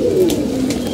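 A male pigeon cooing close by, a steady low throaty coo running through the whole moment with no talk.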